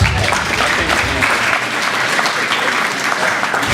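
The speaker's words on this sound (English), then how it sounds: "Y'all give him a round of applause." Spectators at the Pickens County FFA Alumni Livestock Show clap loudly and continuously, a close, full round of applause that keeps a steady texture to the end.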